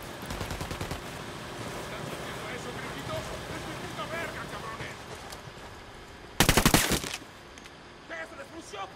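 Gunfire in the tactical shooter Ghost Recon Wildlands, rapid bursts rattling under ongoing speech, with a loud, dense volley breaking out near the end.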